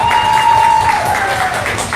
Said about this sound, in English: Everybody, round of applause for Frank.